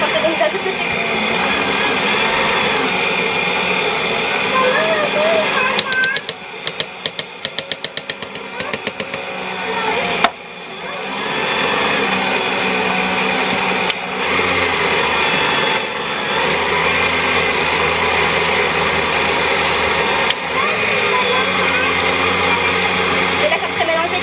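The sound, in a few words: mixing butter and sugar for red velvet cookies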